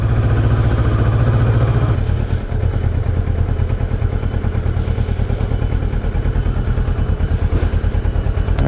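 A motorcycle engine runs close by with a steady, even idle pulse. Its tone shifts slightly early on, then settles into a smooth, continuous rhythm.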